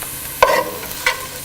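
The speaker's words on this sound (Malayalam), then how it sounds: "ഉള്ളിയിട്ട് ഒന്ന് ഇളക്കി കൊടുക്കുക" Chopped onions frying in a pan are stirred, giving a faint steady sizzle with two brief scraping strokes of the spoon against the pan.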